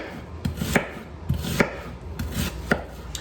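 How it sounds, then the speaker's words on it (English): A knife chops an onion on a cutting board for spaghetti sauce, a few sharp, close knocks spaced unevenly, with no one speaking. "Once we have those peeled, chop down."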